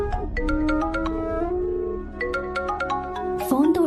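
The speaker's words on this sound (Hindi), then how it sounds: "फोन तो उठा ले।" A melodic phone ringtone plays loudly in a Hindi-dubbed South Indian film, in repeated chiming notes, pausing briefly midway before resuming, with a faint sound at the end.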